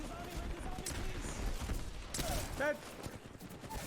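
Gunfire from a video game shootout, a busy stretch of crackling shots over constant game noise, with a voice talking over much of it.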